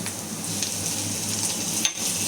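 Chopped tomatoes sizzle in hot oil with onion masala in a pan for a spicy sev bhaji curry. The frying hiss is steady and close, with a brief stir or clatter near the end.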